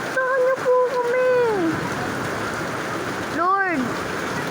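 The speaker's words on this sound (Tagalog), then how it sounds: "Mahinain niyo po yung ulan!" Heavy rain pours down in a dense, steady hiss, loud and close throughout, while a voice rises and falls with long calls over the downpour.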